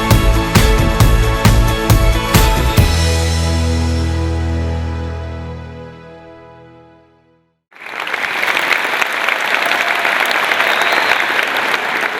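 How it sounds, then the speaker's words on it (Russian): Concert hall audience applause at an awards show, bursting in loud and dense after a sustained musical chord rings out and decays into silence, continuing as steady full-room clapping to the end. "Ваши аплодисменты, зал! Еще громче!"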